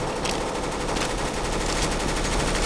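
Rapid automatic gunfire in the shooter game CS:GO, a dense continuous burst of loud shots rattling on for the whole stretch with no speech.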